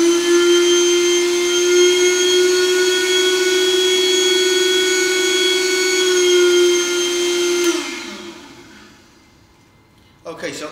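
A vacuum pump drawing air from a Douglas bag gives a loud, steady motorized whine with a strong hum that runs continuously, then winds down and cuts off, leaving near silence before a brief clatter.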